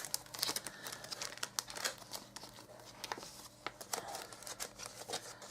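A paper die-cut friend circle is worked free from its sheet, producing close, irregular crinkling and tearing of thin paper in many small bursts.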